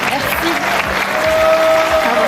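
A French television game show's studio audience applauds a contestant who has won 5,000 euros, with steady clapping running under a presenter's voice and a sustained tone.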